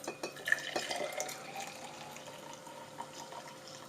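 Water poured from a Fellow Stagg EKG kettle onto coffee for pour-over, a soft trickling, splashing stream close by, strongest at the start and tapering off quietly.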